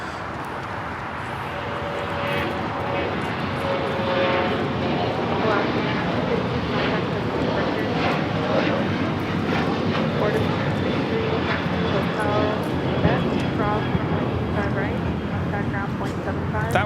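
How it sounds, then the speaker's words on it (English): An Alaska Airlines Boeing 737-800 takes off, its jet engines building into a loud, sustained roar that holds for the whole stretch while a person talks over it. "That was Alaska Airlines 1315 taking off to Portland on the 737-800 in the Disney Toontown livery."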